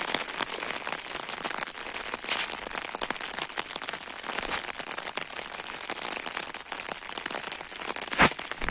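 Raindrops patter irregularly on a taut umbrella close by, with crackling taps and one sharper drop near the end.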